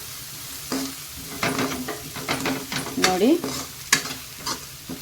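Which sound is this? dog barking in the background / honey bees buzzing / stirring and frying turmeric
stirring and frying turmeric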